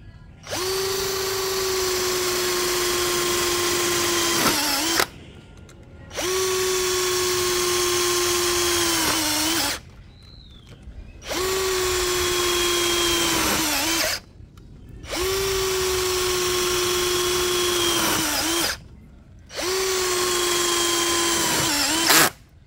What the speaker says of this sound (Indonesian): Enak juga ya digunakan untuk masang baut self drilling seperti ini